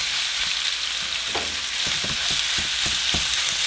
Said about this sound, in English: once the oil is hot, we're going to add our meat